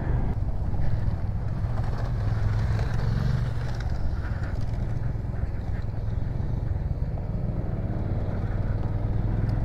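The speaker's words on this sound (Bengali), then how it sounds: "কাঁচটা নামিয়ে দিই, হাওয়াটা ঠান্ডা, হাওয়াটা পুরো একদম মুখে লাগছে।" Cold wind rushing through a lowered car window on the road from Srinagar to Kargil, a loud continuous roar of air buffeting close to the microphone with low road rumble underneath.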